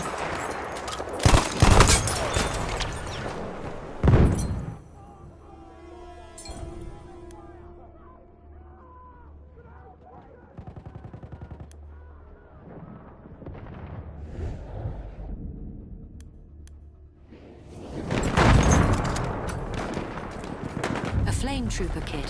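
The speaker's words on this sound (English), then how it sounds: "Machine gun over there!" Battlefield 1 multiplayer battle with bursts of gunfire and machine gun fire, heavy volleys at the start and again near the end, lighter scattered shots in between, with game voice callouts over the action.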